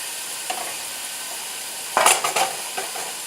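Chunks of inexpensive stew meat browning in a pan for beef stew, a steady close sizzle with a few louder stirring and scraping bursts near the end, no talking.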